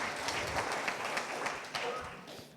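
A church congregation claps together during a service, a fairly brisk run of hand claps at moderate volume that tapers off slightly toward the end.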